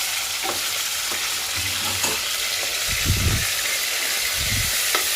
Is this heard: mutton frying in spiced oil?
yes